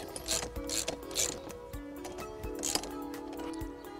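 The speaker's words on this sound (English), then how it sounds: "Then we get our 19 socket, and actually even at this stage we can tighten this as tight as we like." A ratchet with a 19 mm socket tightens a nut while a Berg Sprinter AF is being assembled, making quick, close clicking pawl strokes in repeated bursts.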